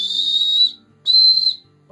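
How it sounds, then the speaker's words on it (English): A beadless survival whistle from a VSSL Supplies survival kit gives two loud, piercing high-pitched blasts, each about half a second to two-thirds of a second, close up with no talking. "And here is the beadless whistle."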